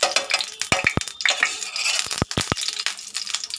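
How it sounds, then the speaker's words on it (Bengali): Oil and then a spoonful of ghee go into a frying pan for a chicken and chana dal dish, giving a close, steady crackle and sizzle punctuated by several sharp metallic clinks of a spoon against the pan. "আর এদিকে আমি ফ্রাই প্যানটা বসিয়ে দিয়েছি, দিয়ে আমি এখানে দেব তেল, অল্প করে একটু তেল দিলাম, আর দেব 1 চামচ ঘি।"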